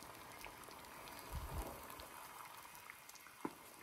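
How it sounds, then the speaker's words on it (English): Water at a rolling boil in a pot on the stove, a soft continuous bubbling and popping with a few louder blips, quiet and close with no talking. "so the water's nice and boiling"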